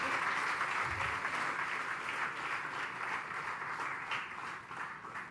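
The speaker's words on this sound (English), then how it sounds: "a big round of applause for all the dignitaries and stalwarts on stage" An audience applauds dignitaries on stage at a national scientists' round table conference, a dense, steady wash of clapping from a large crowd that holds for the whole stretch and tapers slightly at the end.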